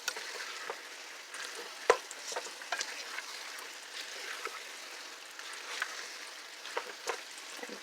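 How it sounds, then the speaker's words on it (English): Beef stirred in a stew pot sizzles faintly, with soft scraping and light knocks at an uneven rhythm, close by and quiet. "Stir that around really good."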